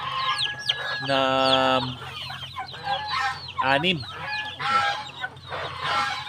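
Hens and chicks in a small backyard farm cluck and peep close by, with repeated calls and short squawks, while a person talks over them.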